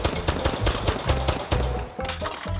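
Rapid gunfire rings out in the VR shooting game H3VR, a quick run of sharp, loud, evenly spaced shots with a brief gap before a few more.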